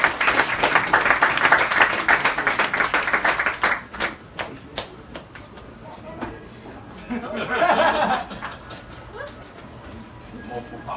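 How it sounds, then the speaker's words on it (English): A community launch event crowd claps warmly for about four seconds, the applause thinning into scattered claps, then chatter, laughter and a dog's bark follow with people talking over the tail. "give yourselves a round of applause for being here"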